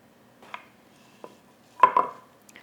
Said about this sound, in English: So this is how I cut these apples, into small pieces like this.